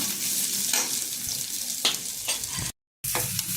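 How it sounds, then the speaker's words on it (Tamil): Chopped onion sautéing for semiya kichadi, a close, bright sizzle with several spatula scrapes stirring through it, briefly cut to silence near the end before resuming. "வெங்காயம் ஓரளவு நல்லா வதங்கிருச்சு."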